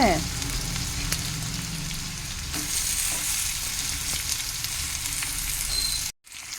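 Potato pieces frying in a tempering of spices in oil, with salt and turmeric added, making a steady close sizzle and a few light knocks from stirring.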